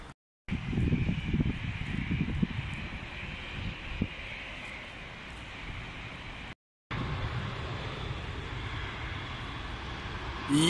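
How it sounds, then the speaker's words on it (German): A steady, distant rumble of several trains rolling in near Düsseldorf Airport in the evening, with outdoor wind noise and no talking. "da hinten kommen jetzt mehrere Züge"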